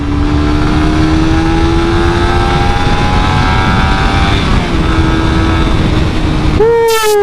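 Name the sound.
Suzuki GSX R150 motorcycle engine revving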